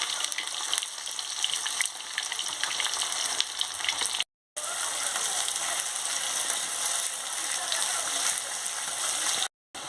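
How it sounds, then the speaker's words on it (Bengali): Chopped onion fries in hot oil with caramelised sugar, giving a steady, close, crackling sizzle that runs almost unbroken, with two brief dropouts and no speech. "এবার আমি পেঁয়াজ কুচিটা দিয়ে দিচ্ছি, দিয়ে ভালো করে ভেজে নিচ্ছি।"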